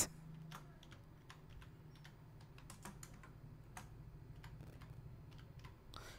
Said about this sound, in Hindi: ये हमने टाइप किया उसके बाद इंटर मारा